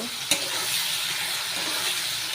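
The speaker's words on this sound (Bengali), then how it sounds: "ফোড়নে তেজপাতা আর গোটা জিরে দিলাম কুচানো পিঁয়াজটা দিয়ে একটু ভেজে নেব" Chopped onion frying in hot oil with bay leaf and whole cumin, a close steady hissing sizzle with one brief clink of a utensil near the start and no talk.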